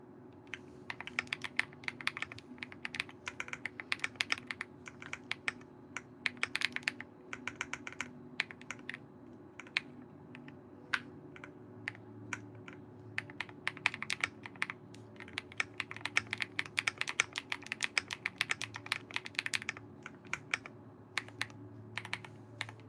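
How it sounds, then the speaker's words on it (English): Steady, close typing on a computer keyboard, a continuous run of quick crisp keystrokes with occasional heavier clacks over a faint low hum, without any speech. "Doesn't the keyboard sound so nice?"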